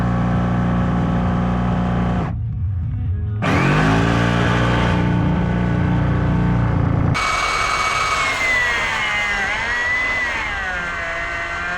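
A power tool cuts a sink hole through plywood, droning loud and steady with a pitch that shifts as the blade loads, cutting out briefly for a couple of seconds before resuming with wavering, whining tones.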